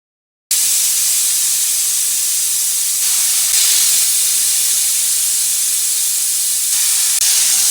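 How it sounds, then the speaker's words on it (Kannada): A pressure cooker cooking mint rice lets out a loud, continuous steam whistle, a harsh hiss starting abruptly after half a second and holding for about seven seconds with slight surges. "ವಿಸಿಲ್ ಆಯಿತು,"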